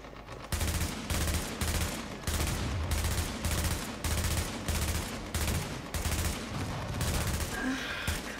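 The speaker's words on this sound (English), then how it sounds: "they're all just focusing their firing on me" Enemy gunfire in the game Tom Clancy's The Division rattles in a steady run of loud, evenly spaced bursts, like sustained automatic fire close by, with no talking over it.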